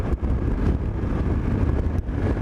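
Loud motorcycle riding noise, engine rumble mixed with heavy wind buffeting, close and continuous, no talking.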